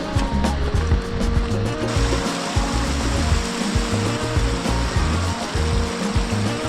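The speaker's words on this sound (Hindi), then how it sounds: "Let me show you this amazing waterfall" The Rayala waterfall in Sainj Valley roars with a dense, constant rush of falling water that is loud and steady throughout.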